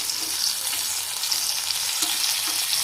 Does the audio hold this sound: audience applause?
no